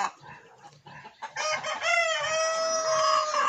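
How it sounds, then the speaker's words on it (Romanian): Old roosters on a farm: soft clucking at first, then a loud, close, drawn-out cock-a-doodle-doo crow that holds steady to the end. "Cocoșii ăștia bătrâni"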